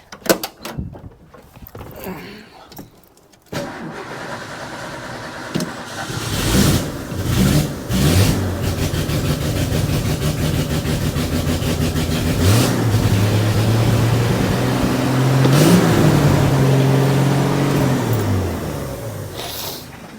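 Ford bullnose truck with a 300 inline-six idling too high after a one-barrel to two-barrel carburetor swap; a few clunks, then the engine starts and holds a loud, steady fast idle up close.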